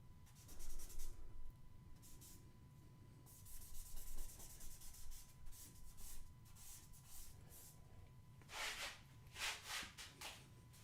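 A blending stump rubs graphite pigment across paper during a profile portrait study, giving soft, close scratchy strokes in irregular bursts with brief pauses, quiet and without talk.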